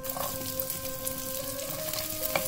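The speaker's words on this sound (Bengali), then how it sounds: "কাজু আর কিশমিশ একসাথে ভাজা হবে" Cashews and raisins fry together in ghee, a soft, even sizzle with light stirring scrapes and occasional small pops, fairly quiet and close.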